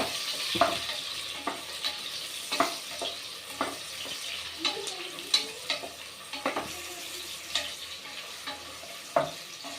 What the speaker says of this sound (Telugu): ఉల్లిగడ్డలు వేసుకుందామండి. ఆయిల్ వేడండి.